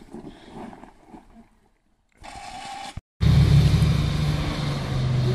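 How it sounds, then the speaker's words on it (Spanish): A Nissan 4x4 climbs a muddy off-road hill in Galicia. After quieter stretches its engine suddenly roars up loud and close, then holds a strong steady rev to the end. "Hay motor, eh."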